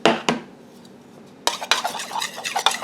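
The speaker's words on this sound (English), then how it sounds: "We're going to stir the melted butter into the brown sugar." Melted butter stirred into brown sugar: a couple of utensil knocks, a quiet pause, then steady close scraping and clinking of a spoon against a bowl.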